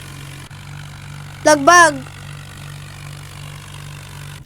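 A tractor engine hums low and steady throughout in the Indian Vehicle Simulator game, a constant idling drone while a voice speaks briefly over it.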